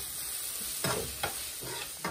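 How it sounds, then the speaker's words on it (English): Onion sautéing in a pan on a stovetop while rice is cooked, heard as a steady faint sizzle with three or four louder scraping stirs spaced through the clip, no talk. "Saute the onion for another 3 to 5 minutes"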